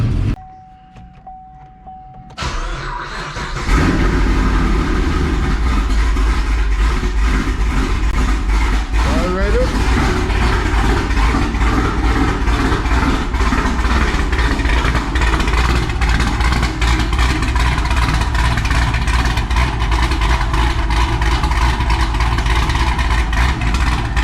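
Manual LS V8 car with a Borla Pro XS true dual exhaust, a quiet start then a loud, steady engine rumble that holds for most of the stretch, with talk heard over it.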